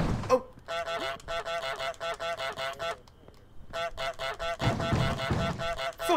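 Goose honking in Untitled Goose Game: a long series of nasal, rhythmic honks in quick clusters, loud and close, with a brief pause midway before the honking resumes and grows louder alongside some background noise.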